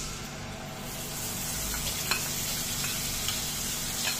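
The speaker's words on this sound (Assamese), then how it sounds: "গোটেখিনি মশলাই ভালদরে ভাজি ললো" Whole spices frying in a pan, a steady close sizzle with a few light scrapes and taps of the stirring spoon.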